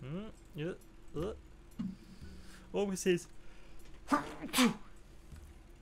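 A single sharp sneeze from one player cuts through casual chatter at a tabletop roleplaying game session, close and fairly loud, with voices talking before and after it.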